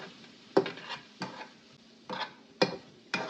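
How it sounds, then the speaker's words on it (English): Rice cakes (tteok) stirred in a pan, five distinct scraping strokes about half a second apart, close and clear, with a faint sizzle between strokes and no talking. "I'm going to dump in the tteok, the rice cake. And give it a little stir."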